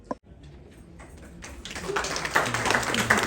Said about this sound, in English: Hearty applause.